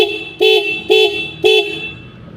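Three short 24-volt car horn honks in a steady rhythm, loud and close, over a low engine hum.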